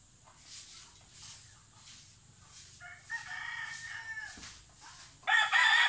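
A rooster crows in a rural Bohol yard, with several loud, drawn-out calls from close range and other fowl faintly in the background.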